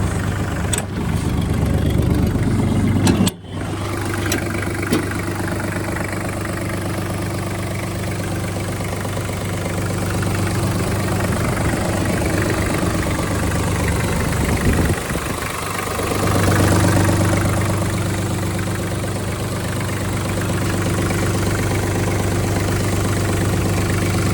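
A Kubota KT-24 mini tractor's diesel engine idles steadily with the hood open, a low, even rumble close by, broken by a short clunk early on.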